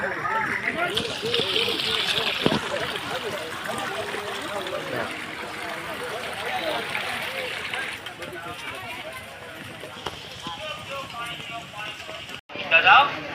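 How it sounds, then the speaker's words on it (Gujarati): A small mountain stream flows and babbles steadily nearby on a hill trail at Girnar, with water splashing, as a person talks over the constant rush. "અહીંયા નાનું એવું ઝરણું આવ્યું પાણી સરસ મજાનું"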